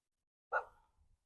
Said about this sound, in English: There's a wee dog up there, he's new.